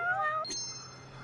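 A hidden cat in the video game Judgment Remastered gives a single clear, tonal meow, followed by a brief chime.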